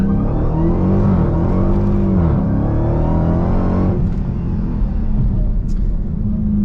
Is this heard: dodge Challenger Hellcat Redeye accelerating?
yes